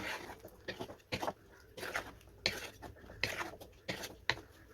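Chicken gravy being stirred in a pan after water is added: irregular scraping and clinking of a spoon against the pan in short bursts, close and moderately faint, with no talking.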